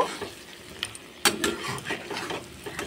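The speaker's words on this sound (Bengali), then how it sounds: "এবার আলুগুলো দিয়ে আর একটু কষিয়ে নেব।" Fried potatoes are stirred and sautéed with spices in a wok, giving a soft sizzle broken by scraping and clattering of a spatula against the metal, close and alone.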